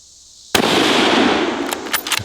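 A hunting rifle fired outdoors at a watermelon: one sharp, loud report gives way to a sustained rushing noise, followed by a few smaller cracks near the end.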